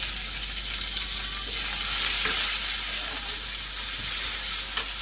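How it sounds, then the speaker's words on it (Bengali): Chopped garlic, onion and green chilli fry together in oil while being stirred, a loud continuous sizzle with scraping spatula strokes and brief pops throughout. "সব কিছু একসঙ্গে আমি খুব ভালো করে একটু বাদামি কালারে করে ভাজা ভাজা করে নেব"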